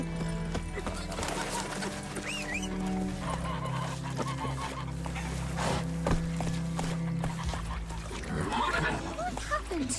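Horse clip-clop and a neigh in The Witcher 3, hooves beating steadily over a busy game soundscape with music, distant chickens clucking and voices talking.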